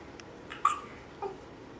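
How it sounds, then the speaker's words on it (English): A baby hiccups twice, a brief sharp catch followed by a fainter second one, close to the microphone against a quiet room background. "Hard to yawn when you have hiccups, huh?"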